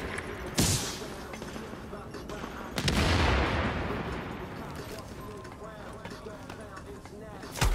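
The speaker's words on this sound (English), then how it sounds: "It's somebody shooting from the backside of this." Gunfire in The Division, coming from behind the player: two sharp, loud shots land about two seconds apart amid steady game noise, the second trailing into a long, rumbling echo.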